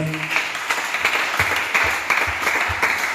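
A church congregation claps and applauds together after a prayer, a dense burst of hand claps that carries steadily through the short stretch, moderately loud and close, with no speech.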